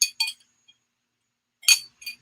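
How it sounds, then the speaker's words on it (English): A wine glass holding water clinks sharply in two bright pairs of taps separated by silence, close and clear with no talk. "hold on, we got water in the wine glass over here."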